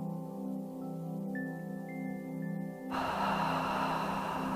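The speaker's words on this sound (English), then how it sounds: "on the exhale, open the mouth and say ha, H-A, like you're fogging a mirror" An open-mouthed "ha" exhale like fogging a mirror, heard during a yoga breathing exercise: a steady breathy rush of air sets in partway through and continues over a sustained background tone.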